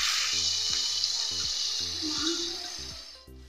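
Spice masala dropped into a hot pan for a mixed-vegetable pach mishali dalna with onion and ginger, giving a steady hissing sizzle throughout, accompanied by a repeating tonal buzz.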